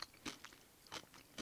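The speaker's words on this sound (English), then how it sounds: "I'm finding that M&Ms are not a great candy for doing the commentary track. It's going to be a loud crunch." M&M candies crunch between the teeth in a few sharp, close bites spaced unevenly, quiet overall with soft chewing in between and no voices.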